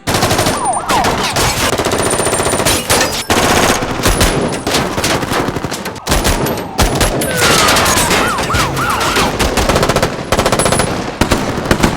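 Sustained bursts of automatic gunfire in a film robbery shootout with police rattle loudly and almost without pause, with heavy rapid shots and occasional booms layered over one another.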